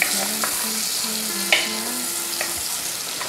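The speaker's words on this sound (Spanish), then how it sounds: "Lo agregamos todo dentro y esto lo sofreímos." Mashed garlic and chopped onion sizzle steadily in a hot pan, a close, continuous frying hiss with a few light spoon taps and scrapes as the mixture is stirred.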